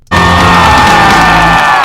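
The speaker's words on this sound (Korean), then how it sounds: "현역에 있는 뮤지컬 배우들이 기립박수를 보내죠" Musical actors give a standing ovation after a Death Note musical performance, with loud, sustained cheering, whoops and yells from a large crowd erupting suddenly and roaring on at full volume.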